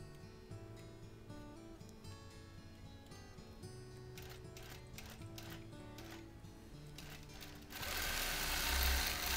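A sewing machine stitches freehand quilting through a quilt with soft minky backing, running in short mechanical bursts that speed up, with a louder broadband rush near the end.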